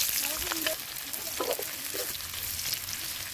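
Onion sizzles steadily in hot oil in a kadhai for a home-style desi chicken curry with banana flower, a dense continuous fry with faint stirring scrapes.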